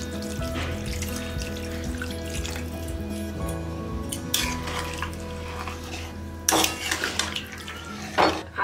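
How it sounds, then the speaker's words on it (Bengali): Water splashes and pours into a pot of rice cooking for Bengali fish head curry (muri ghonto), with stirring, metal pot clatter and a couple of louder splashy bursts near the end. "একটু চালটা ফুটবে তাই আমাকে জলটা আর একটু দিতে হবে।"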